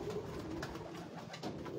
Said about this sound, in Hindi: ये कबूतर देखें